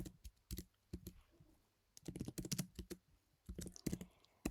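Someone types on a computer keyboard close by, in irregular bursts of quick clicking keystrokes separated by short pauses.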